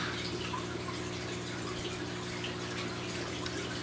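Steady stream of water running and splashing during an aquarium water change on a planted fish tank, a continuous close, even wash with faint dripping and no voices.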